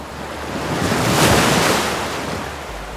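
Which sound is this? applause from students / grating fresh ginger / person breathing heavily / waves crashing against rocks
waves crashing against rocks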